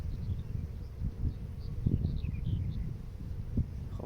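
Honey bees hum around an opened beehive while brood frames are being moved, a low steady buzzing close by with soft knocks and thuds of the frames rising above it.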